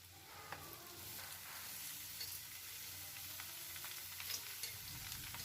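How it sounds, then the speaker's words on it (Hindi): Chopped sarputiya vegetable and golden potatoes frying together in a pan, a soft continuous sizzle with light scraping and clinks from stirring. "सरपुतिया डाले के बाद अच्छी तरह से आलू के साथ चलाते हुए सरपुतिया और आलू के एक साथ मिला लेवे के है"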